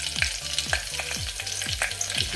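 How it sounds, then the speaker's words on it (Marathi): Curry leaves and asafoetida drop into hot oil after cumin, a bright crackling sizzle with a regular series of quick scraping strokes roughly every half second. "आता यामध्ये कढीपत्ता घालते त्यासोबतच पाव चमचा मी हिंग घालते"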